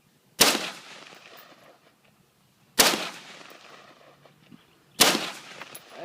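Three sharp, loud M16 rifle shots ring out at a firing range, spaced about two seconds apart, each followed by a brief echoing tail.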